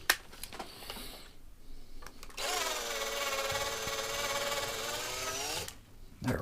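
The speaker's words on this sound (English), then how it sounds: "Okay, a little more drilling." Drilling into a die-cast Hot Wheels 85 IROC Camaro toy car: a small power drill whines steadily for about four seconds close by, framed by brief handling clicks before and after.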